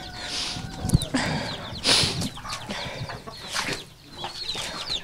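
Chickens cluck and squawk repeatedly nearby in a flooded village yard in Holohory, Ukraine, with scattered bird calls and shuffling noise in the background.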